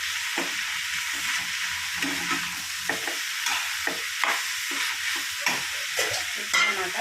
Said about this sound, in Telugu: ఇంకా కొంచెం కారం, అల్లం వెల్లుల్లి పేస్ట్ వేసుకొని తిప్పుకున్నాం.